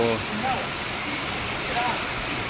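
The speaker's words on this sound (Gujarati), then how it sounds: "જબરજસ્ત પવન સાથે વરસાદ છે અહીંયા બહુ બધો વરસાદ છે" Heavy rain driven by strong wind at night, a dense, loud, unbroken roar of downpour filling the whole clip, with a brief trace of a voice near the start.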